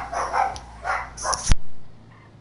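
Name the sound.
dogs barking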